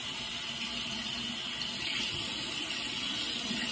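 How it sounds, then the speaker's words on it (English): Hot tap water running steadily as conditioner is rinsed out of hair, a continuous close hiss and splash without breaks. "So, we put some conditioner in her now, and we're just rinsing it out now."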